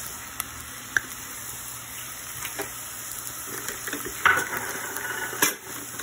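Food coated in gram flour frying in a pan, a steady soft sizzling hiss with a few small clicks and pops from stirring.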